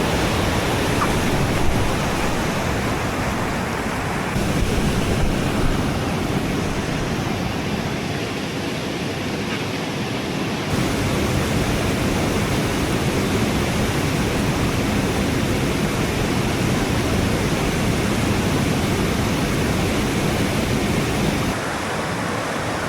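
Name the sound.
big river flowing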